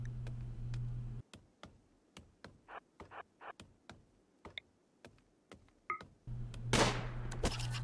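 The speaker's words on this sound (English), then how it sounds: "Takes a shot, first one hits" Sharp, isolated gunshots fired by a colonist at insects in a cave in RimWorld, a series of crisp cracks spaced about every half second over a quiet background, with faint game ambience at the edges.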